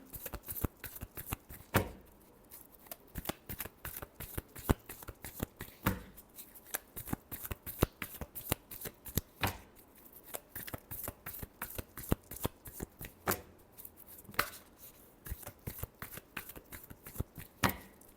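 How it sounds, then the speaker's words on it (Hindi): Tarot cards shuffled by hand in a long, continuous run of rapid, crisp riffling flutters, close and fairly loud, with occasional sharper slaps as the deck is squared between passes. "last shuffle"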